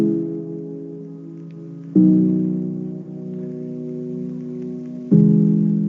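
Soft piano chords in plain, unembellished voicings, a 7 chord held long and then resolving back to the 1 chord, each chord ringing and sustaining steadily with fresh attacks at the changes.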